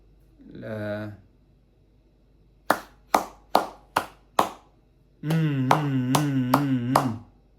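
Five sharp, evenly spaced hand claps ring out close by, each marking one breathing step, with a single voice sounding before and a stretch of sustained vocalizing with more claps afterward.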